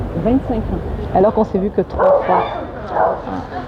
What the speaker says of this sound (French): C'est le chien avec des mouettes qui s'envolent,